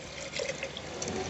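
Coconut milk pours into a cooking pot for variety rice, a soft steady liquid stream with faint splashing, quiet and close, no one talking.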